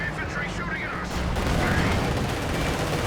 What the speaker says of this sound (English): That was a machine gun, right?